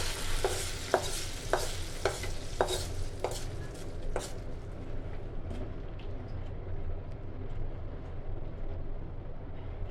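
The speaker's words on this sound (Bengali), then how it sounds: "এখন সব কিছু একসাথে মিশিয়ে ডালের মধ্যে ঢেলে দিচ্ছি।" A spiced tempering mixture goes into lentil dal for a tangy mango dal, with a string of sharp spoon clinks against the pan over a steady close sizzle that gradually fades.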